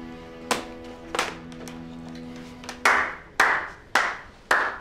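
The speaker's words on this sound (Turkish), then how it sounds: "Bak alkışlıyorum" A single person claps slowly and deliberately, two spaced claps followed by a pause and then four louder, evenly timed claps, over a faint sustained tonal background.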